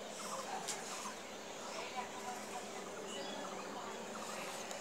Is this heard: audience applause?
no